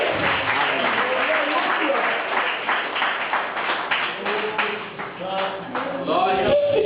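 Church congregation clapping in a lively Portuguese-language service, dense rhythmic claps running continuously with voices and shouts mixed in, loud and close.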